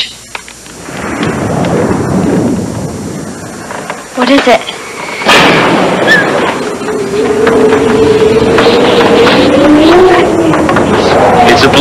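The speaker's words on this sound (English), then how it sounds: "It's a blizzard." A blizzard roars and howls on the prairie, loud and continuous, with a rising and falling whine of wind over the steady rush. Brief hushed speech comes through partway in.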